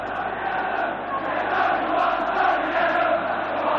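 A Liverpool football crowd jeers Arsenal's Tony Adams at Anfield in the May 1989 title decider, a sustained roar of massed voices rising and swelling in the stands.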